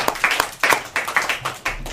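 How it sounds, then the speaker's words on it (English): A small classroom group of students claps for a round of applause, uneven bursts of close handclaps in a loose rhythm with sharp individual claps standing out, lasting about two seconds. "round of applause."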